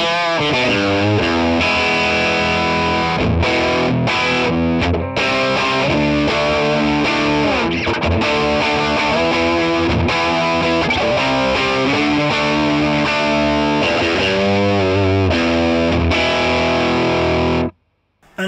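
Distorted electric guitar riffs and chords played through a Mesa Boogie Mark V 35 combo amp in the Mark IV drive mode, loud and continuous, with thick saturated tone, until an abrupt stop near the end.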